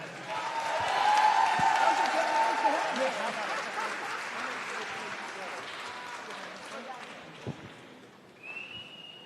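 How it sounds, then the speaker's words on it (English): Conference audience applauds for Hillary Clinton at the Rainbow PUSH annual conference, a loud sustained clapping from a large crowd with scattered whistles and cheers, gradually tapering off toward the end. "Can we give Secretary Hillary Clinton a big hand, a round of applause?"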